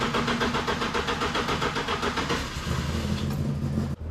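A car engine with freshly cleaned plugs cranks on jump leads from a second battery, the starter chugging in a fast, even rhythm before the engine catches and settles into a steady idle.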